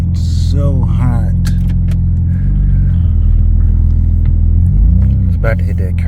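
Car driven right after its cold air intake was cleaned, with a steady low engine rumble and road drone throughout and a swell of revving near the end, while people talk over it.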